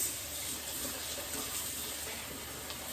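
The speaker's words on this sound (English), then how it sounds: "So we're going to give it a rinse." Carrots being rinsed under a running kitchen tap while cooking brown stew chicken, a steady close hiss of flowing water splashing in a sink, continuous for about three seconds with no talking.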